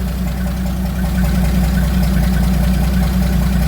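A car engine idles steadily with a low, rumbling, slightly uneven throb, close and continuous throughout.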